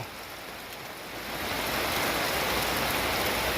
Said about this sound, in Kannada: ಅಲ್ಲಿ ಪರಿಸ್ಥಿತಿ ನೋಡಿ ಮಳೆ ಬರ್ತಾ ಇದೆ